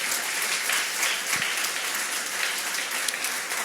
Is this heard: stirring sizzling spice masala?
no